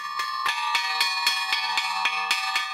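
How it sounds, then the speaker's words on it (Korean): A handbell rings rapidly and steadily as a feeding call for pigs on a farm, about ten bright clangs in quick, even rhythm, close by with no voices. "종소리가 울려 퍼지자 놀라운 광경이 펼쳐집니다."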